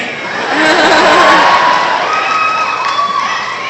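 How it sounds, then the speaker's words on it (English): A large Salt Lake Comic Con crowd at a Stan Lee interview cheers and applauds, a loud, sustained roar of voices and clapping that swells early and holds steady to the end. "No wonder you all applauded."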